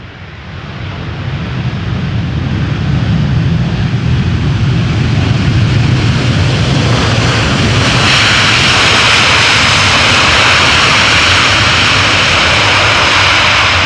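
An airliner touching down at Amsterdam Schiphol Airport after a long flight, its loud jet engine roar building and staying steady and close for the whole stretch, with a broad rushing whine and wind-like noise.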